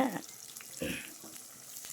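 Spices and curry leaves with shallots crackle and splutter in hot oil for mutton curry tempering, quiet sizzling with a few sharper pops, heard close up.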